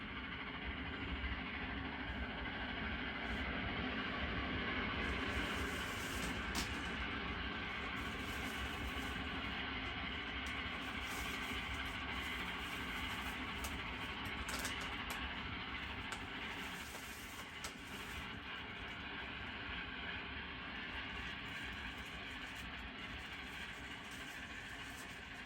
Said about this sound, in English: a Mohawk leads its train into Dayton